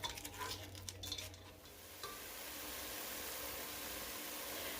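Plant-based ground beef and onions cooking in a pan, first a few scraping stirs and light clinks, then a steady soft sizzle that carries on alone, close and fairly quiet.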